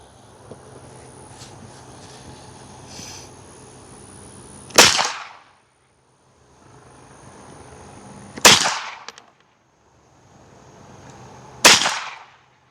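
Three sharp, loud unsuppressed rifle shots with CCI subsonic ammunition crack out a few seconds apart, each decaying quickly into quiet outdoor background.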